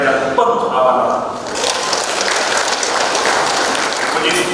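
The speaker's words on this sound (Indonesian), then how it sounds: "Mari beri tepuk tangan penghormatan untuk ketua dan anggota DPR yang penuh amanah." Applause at a regional council member inauguration ceremony, a hall full of people clapping in a dense, even patter that swells and holds steady, with some voices mixed in.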